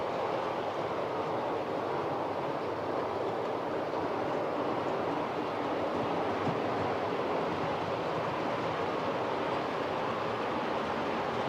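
A steam train on the South Devon Railway heritage line, a steady broadband rushing rumble that holds for the whole stretch, with no voices over it.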